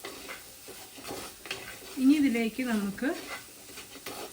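Spice powders for a spicy Kerala-style beef roast are sautéed in a hot pan, with a spatula scraping and stirring softly as a low sizzle runs beneath a woman's nearby speech.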